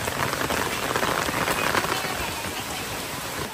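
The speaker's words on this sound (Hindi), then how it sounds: "बारिश आ गई।" Heavy rain pattering steadily on a surface, a dense close hiss of drops throughout.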